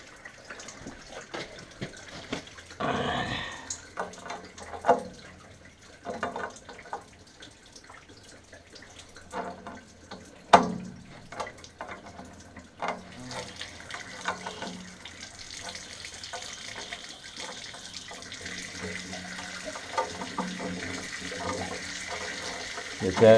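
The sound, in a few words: water draining from a vacation house's hot water tank and pipes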